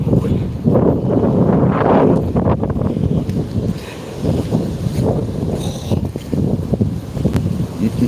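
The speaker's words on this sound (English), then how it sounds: "Back in the wind, I'm afraid." Strong wind gusts outdoors roar steadily against the microphone with a heavy, low buffeting rumble that fluctuates but never drops away.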